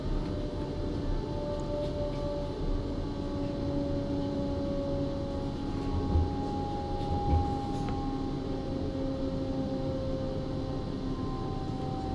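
A train rolls steadily through the Train Simulator 2022 game on the RB48 service to Köln, giving a continuous low rumble with faint sustained tonal hums, evenly loud throughout with no talking.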